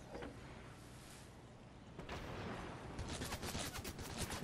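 A shotgun fires in a battle royale video game, heard as faint, distant bursts of gunfire that cluster toward the end of a low background.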